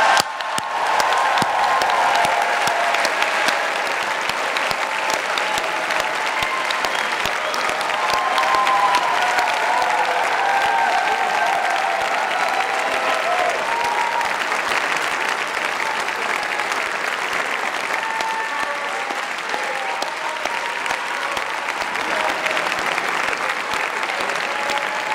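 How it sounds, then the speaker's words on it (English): Sustained, dense applause from a large audience at a university engineering graduation ceremony, steady and loud for the whole stretch with no voices over it. "Please congratulate all of the graduates with a well-deserved round of applause."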